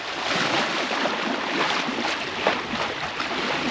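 A sailboat glides slowly through light wind on a broad reach, giving a continuous soft hiss of water along the hull mixed with breezy wind noise.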